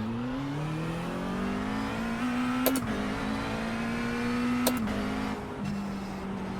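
A GT3 race car engine in the iRacing sim holds a steady drone whose pitch rises and falls gently, broken by two brief sharp clicks as gears shift.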